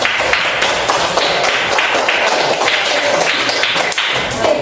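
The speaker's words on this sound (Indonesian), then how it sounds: "beri tepuk tangan" A classroom full of people claps steadily and densely for several seconds, loud and continuous with no voices on top.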